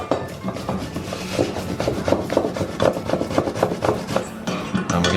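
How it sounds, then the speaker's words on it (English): Food being grated straight into a pan while cooking meatballs, giving a steady rough rasping scrape repeated in quick strokes, close and fairly loud with no talking. "now what we're going to do is just grate these"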